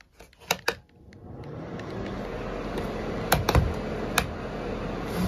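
A room heater switches on with a few sharp clicks, then settles into a steady broadband whir that runs on continuously, with a couple more faint clicks over the hum.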